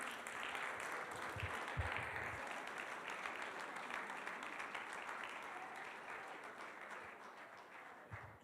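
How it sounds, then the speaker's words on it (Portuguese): Sustained applause from a church congregation giving praise for a young man named Lucca, steady and dense throughout with a few louder claps near the start, fairly distant and even in level. "Aplauda o Senhor pela vida do Luca."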